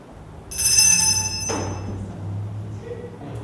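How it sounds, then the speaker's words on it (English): Bell ringing in a sanitarium, a bright metallic ring that starts sharply, sustains its tone for about a second and then cuts off into a thud, followed by a low steady hum. "Every time that bell rings,"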